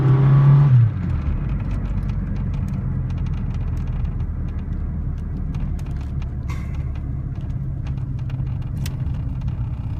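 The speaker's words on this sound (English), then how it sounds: "turbo cars really take off too if you press them." A turbocharged Chrysler car engine, likely a Turbo LeBaron, roars loudly as it accelerates hard, a brief surge up front settling into a steady, close, continuous drone with whirring and rumble.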